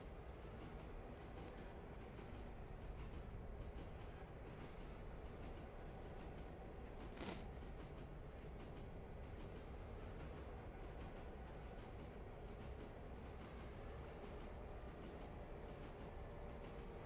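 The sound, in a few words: freight train running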